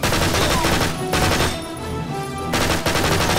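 Gunfire in Medal of Honor: Heroes 2 rattles in loud, dense automatic bursts, with a brief lull in the middle before the firing resumes at full intensity.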